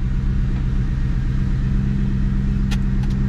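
A Ford Mustang sits up on a stand in drive. Its engine and drivetrain give a steady, loud low rumble with a constant hum throughout, and a couple of faint clicks come near the end.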